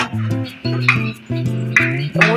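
A metal lid goes onto a pot of home-made chicken biryani, making a run of close, loud clanks and scrapes with ringing metallic tones and no talk.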